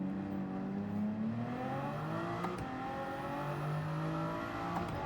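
A car engine in a side-by-side drag race against an Audi in a racing video game, revving hard with rising tones through gear changes, loud and close, whining steadily without talk.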